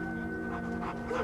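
Blue-coloured dog panting steadily with a faint whimpering edge, close and continuous over a constant background hum, no talking.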